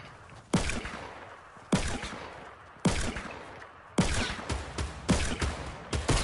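Pistol gunfire in a video game: five sharp, loud shots spaced roughly a second apart, each followed by a short decaying echo, with no talking.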